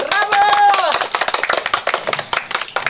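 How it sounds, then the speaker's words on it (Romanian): Clapping erupts at a birthday surprise for Cristina, with voices and a sung or sustained tone at first, then dense, close claps carrying on steadily beneath chatter. "aplauze tuturor! Bravo!"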